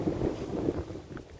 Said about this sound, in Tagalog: Kaya medyo magalaw po yung video ko dahil mahangin po guys.